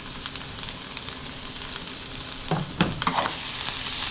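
Onion and ham frying in a pan for an omelette, a steady close sizzle with a burst of scraping stirring noises toward the end, no voices.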